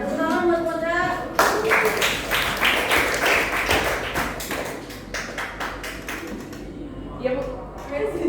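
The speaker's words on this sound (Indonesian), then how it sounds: "Tepuk tangan buat Kodra." Classroom students clapping for a classmate in a school teaching practice session, a burst of scattered claps under and alongside nearby talk, fading after a few seconds.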